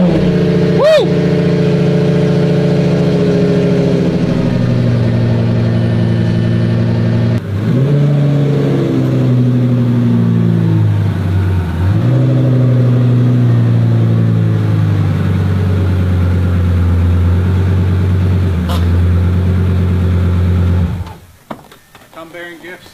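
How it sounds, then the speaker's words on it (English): A Lamborghini engine cold-starts, cranking and firing up, then holds a loud, steady rumbling idle with a few revs before cutting off near the end. "cold start in my Lambo"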